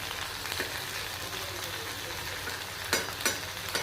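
Fish frying in a pan, a steady broadband sizzle with a few louder crackling bursts near the end, close and continuous with no talk.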